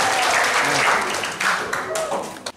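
Applause from an audience at a school orientation event, thanking a presenter, a dense wash of clapping heard alongside a voice speaking over it.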